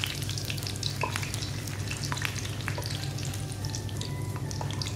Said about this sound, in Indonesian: Ternyata ada bawang yang masih digoreng.